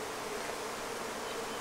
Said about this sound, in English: These bees are down there feeding this queen, and that is a good sign.